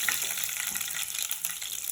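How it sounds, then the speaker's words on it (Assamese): Mustard seeds frying in hot oil in a kadai give off a close, steady crackling sizzle with fine popping, continuous and fairly loud without any voices. "এয়া কেৰাহীত তেল দিলোঁ, তেলখিনি গৰম হ'ল। তাৰপিছত সৰিয়হ কেইটামান শুকাই দিছোঁ"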